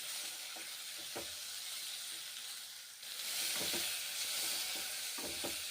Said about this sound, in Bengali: সর্ষের তেল দিয়ে পটলগুলো এখন আমি ভেজে নিচ্ছি।